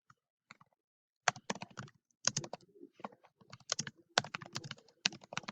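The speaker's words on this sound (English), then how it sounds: "So I'm going to type in regions of New York." Close, crisp typing on a computer keyboard in uneven bursts of quick clicking keystrokes separated by short pauses, heard alone in a quiet room.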